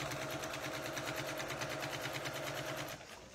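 A sewing machine stitches quilt binding with a fast, even, rapid mechanical patter, faint and close. It slows and stops near the end.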